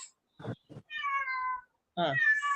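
A house cat meows several times close to a headset microphone, loud and distinct short calls separated by silence, with no talking.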